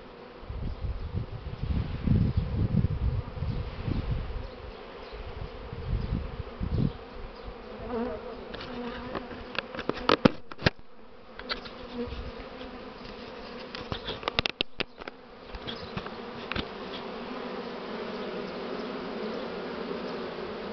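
A honey bee swarm buzzing loudly and continuously at a hive landing board while the queen is caught, a dense close drone with a few bumps and knocks, no talking.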